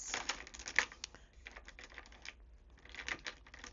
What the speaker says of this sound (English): a nice, relaxing video full of clicky dice rolls